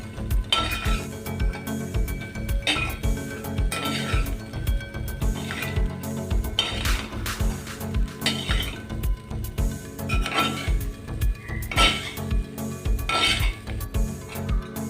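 Fried rice is tossed with white pepper in a metal pan, with repeated scraping and clinking strokes of a utensil against it in a busy, rhythmic pattern, loud and close.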